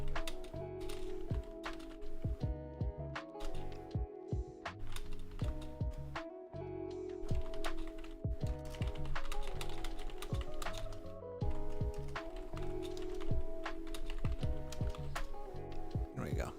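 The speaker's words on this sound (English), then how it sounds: "You get the pitter-patter of typing." Steady pitter-patter of typing on a computer keyboard, close and continuous with sharp key clicks throughout, layered over a low background hum.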